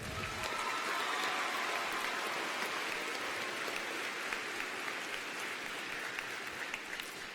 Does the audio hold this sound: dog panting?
no